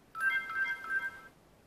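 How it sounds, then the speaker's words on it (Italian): A smartphone emits a short electronic confirmation chime as an Amcrest ProHD IP2M-841B 1080p WiFi camera connects to a home network. The tone is bright, steady and close, lasting about a second, and plays alone. "Vedete, il telefono ha emesso un suono e la telecamera si è subito connessa."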